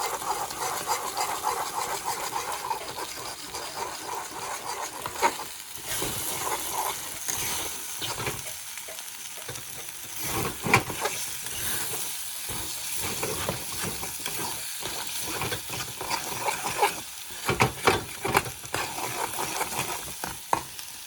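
Potatoes for Bengali alu posto are stirred and fried in a pan: a continuous close sizzle and hiss with repeated scraping and knocking of the spatula, occasional louder clacks, no voices.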